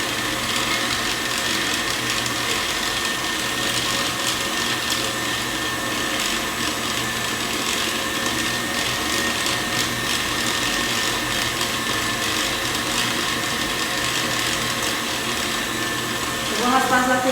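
An electric mixer beating cake batter of butter, sugar and eggs in a bowl, a loud, steady motor whir that runs unbroken for the whole stretch and shifts briefly at the very end.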